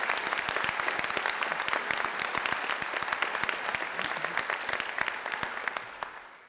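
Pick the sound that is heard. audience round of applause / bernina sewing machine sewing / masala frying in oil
audience round of applause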